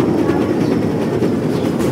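A train rolls along in the real-time strategy game C&C Generals Zero Hour, a steady, dense rumble with a faint rhythmic clatter and no voices.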